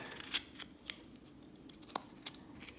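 A knife whittles a wooden human face carving, giving a few quiet, sparse cutting clicks and scrapes against a steady low background hiss.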